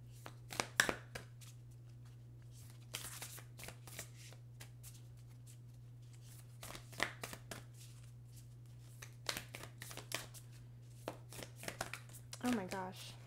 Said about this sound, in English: I'm gonna get you guys some moonology cards.